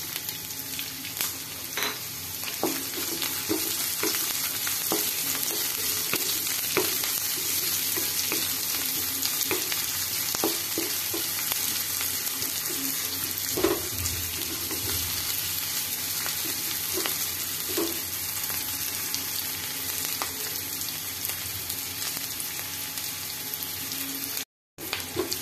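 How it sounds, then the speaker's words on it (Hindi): Chopped onion fries in a pan with panch phoron and green chillies for sunsuniya greens, the sizzle steady and close for a long stretch, broken by light stirring scrapes and clinks. "एबे एथे कटा पियाज को देई भाजी नबा।"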